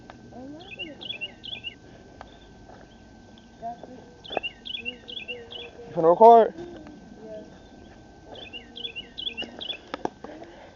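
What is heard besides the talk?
birds singing in trees along a trail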